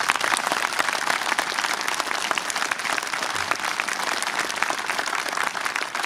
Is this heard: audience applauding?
yes